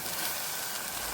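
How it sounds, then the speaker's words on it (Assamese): Tomatoes fry in a pan while lunch is cooked, a faint, steady hiss of sizzling oil that holds evenly throughout, no talking. "বিলাহীখিনি ফ্ৰাই কৰি দিওঁ"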